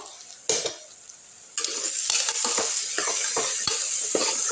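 Mutton curry masala sizzling and frying in a pan, with stirring scrapes and soft clinks of a utensil against the pan, steady and close with a louder burst of sizzle as stirring picks up.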